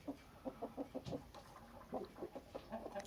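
Chickens cluck in a rapid, uneven series with a rooster among them, a close, fairly quiet farmyard flock of show roosters and hens calling in short repeated bursts.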